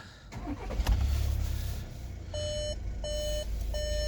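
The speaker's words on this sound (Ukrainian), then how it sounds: "Зараз заведемо автомобіль." A 2020 Volkswagen Tiguan 2.0 TDI diesel, 150 hp with a seven-speed DSG, cranks and fires with a short burst, settles into a low idle rumble, and then a dashboard chime beeps three times.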